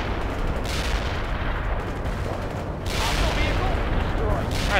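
Sustained battlefield gunfire and artillery from the real-time strategy game World in Conflict, a dense continuous roar of shots and blasts that swells louder in the second half, with game voices mixed in.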